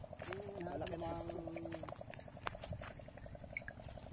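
Catfish fingerlings splash and patter at the water's surface while feeding in a hatchery tank, a faint, quick irregular sputter of small splashes with a voice speaking nearby.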